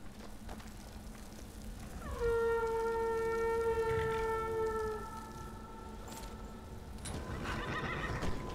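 A horse whinnies in the Skyrim video game, a single long, tonal neigh that rises and then trails off over a few seconds. It stands clearly above a quiet game backdrop, with faint clip-clop and ambient tones before and after.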